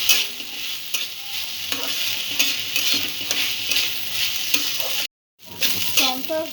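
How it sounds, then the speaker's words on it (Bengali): Rice for palm-fruit payesh fries in a pan over a medium-low gas flame, with a steady sizzle and a repeated rhythmic scrape of stirring. The sound cuts out briefly near the end, then resumes. "সামান্য একটু চালটা ভেজে নেব।"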